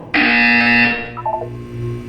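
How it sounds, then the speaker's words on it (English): A loud, steady electronic buzzer from the Portal 2 video game sounds for about a second, then fades into a faint tonal hum. "When you hear the buzzer, look down at the floor."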